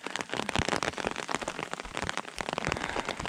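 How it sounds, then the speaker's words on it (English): Rain pattering steadily on hikers on the Colorado Trail just off a ridge during a thunderstorm, a dense close hiss of drops hitting gear and ground with no talk. "But it decided to start raining on us."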